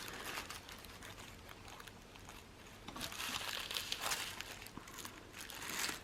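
Very thin tissue paper from a flower kit crinkles and rustles softly as its layers are slowly pulled up toward the middle, with a faint, continuous close crackle that swells near the end.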